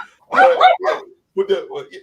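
A dog barks in two short bursts of yips and woofs, close and fairly loud, with a brief pause between them during a casual live chat.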